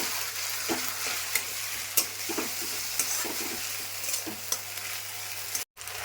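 Chopped chilli and onion frying in hot oil, a continuous crackling sizzle with scattered pops and light stirring scrapes, close and steady throughout with one brief dropout near the end.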